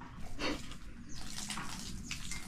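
Water running from a tap or hose outdoors, a steady splashing wash that stays close and fairly loud across the whole stretch, with brief surges, no voices.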